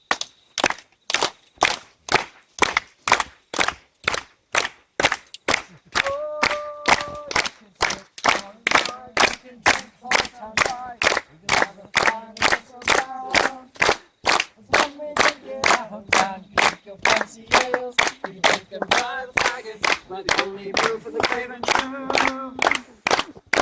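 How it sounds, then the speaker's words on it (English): Tour group on a night visit to Hobbiton stomping and clapping in a steady, loud beat, the regular hits running throughout while voices sing along over them from a few seconds in. "Stomp and clap, guys."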